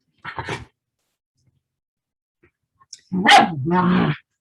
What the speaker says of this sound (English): And my dog Samantha wants to be part of the presentation